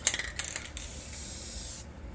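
Flammable brake cleaner sprays in a few short hissing bursts and then one sustained aerosol hiss, close by, while working on a 1986 Chevy K10 350 engine during a cam swap.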